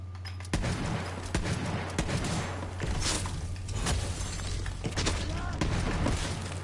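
Gunfire in the Borderlands 3 video game, with dense, rapid bursts of shots and booming impacts that run steadily through the whole stretch at a loud, close level.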